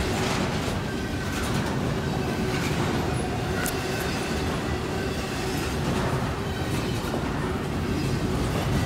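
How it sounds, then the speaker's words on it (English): Norfolk Southern freight train passing a railroad crossing in Pittsburgh, Pennsylvania, a loud continuous rumble and wheel roar close by throughout, with a steady low drone and no talking. "So here comes the Norfolk Southern."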